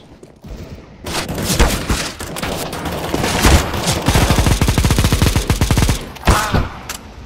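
Loud, close gunfire in the Counter-Strike: Global Offensive game, with rapid automatic bursts forming a dense, continuous rattle that runs for several seconds before tapering to a few scattered shots.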